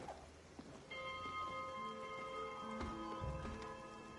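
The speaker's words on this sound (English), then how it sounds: "Gotta ring the bell." A boat bell rings in the video game Spiritfarer, its clear sustained tones starting just under a second in and layered with a few further struck chimes over soft rain-like background noise.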